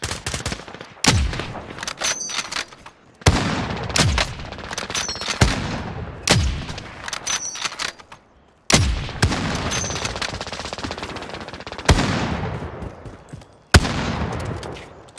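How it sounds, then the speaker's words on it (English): Video game shooter gunfire crackles in repeated sharp bursts, some rapid machine-gun runs and some single loud shots, separated by short quiet gaps. "They're shooting me."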